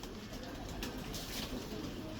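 Pigeons coo softly, including a golden female kept by a breeder, with a few low, rolling coos heard fairly close amid quiet background noise.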